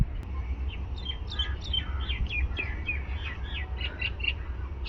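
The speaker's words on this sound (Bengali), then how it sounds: "ওই ভেতরে গাছপালা থেকে সুন্দর পাখির আওয়াজ আসছে।" Several birds chirp and twitter in short repeated high calls from among trees, moderately distant, over a steady low rumble of outdoor background noise.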